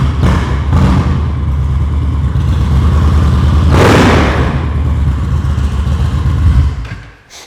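A custom Indian bagger motorcycle engine runs loud and close for several seconds, with one sharp rev swelling and fading near the middle, then the sound drops off at the end.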